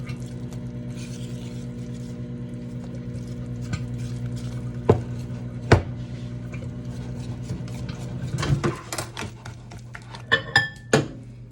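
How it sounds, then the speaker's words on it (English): Whisk clinking against a bowl while mixing popover batter ingredients in a kitchen, steady under a low appliance hum, with a few sharper metallic taps and scrapes toward the end. "I'm just gonna start whisking the things that I have together"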